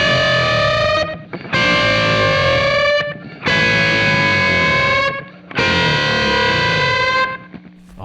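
Distorted electric guitar unison bends, each held note wavering with effects and followed by a lower pitch dive, repeated four times in sustained loud phrases with brief breaks.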